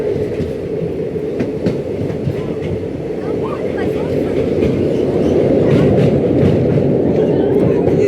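A train runs across the Pamban rail bridge over the sea, a loud continuous rumble of wheels with faint rhythmic clatter that swells slightly, heard close from on board, with some voices underneath.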